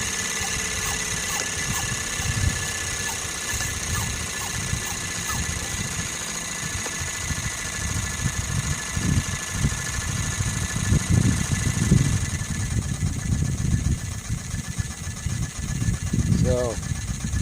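A small Sirius steam engine driving a generator runs steadily with a continuous mechanical hum and light rhythmic chuffing, while someone talks over it throughout.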